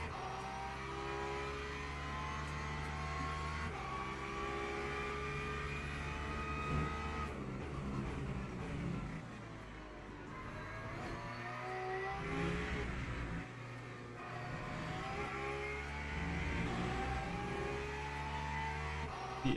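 GT3 race cars lapping Imola in the racing game Le Mans Ultimate, engine droning and revving steadily through gear changes as other cars pass closely, continuous and fairly loud.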